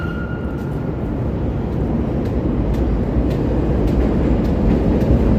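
Chicago L elevated train approaching a station platform in winter evening, a steady broad low rumble building gradually, with faint rhythmic clicks over a continuous roar, no talk.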